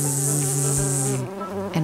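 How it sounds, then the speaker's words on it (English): A bee buzzing steadily and fairly loud for nearly two seconds, a continuous droning hum that stays even before easing slightly near the end. "What sound does a bee make?"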